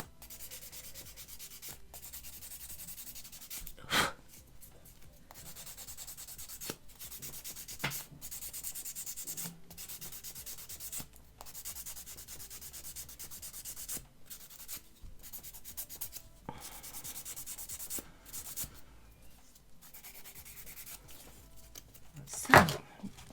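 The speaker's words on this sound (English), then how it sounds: "I'm not going to rub them down too hard because I don't want to damage them, but I'm just taking the shine off them" Artificial nail tips are lightly rubbed with a file or buffer to take the shine off, giving faint, close, repeated scratchy strokes in short uneven bursts with a few louder scrapes.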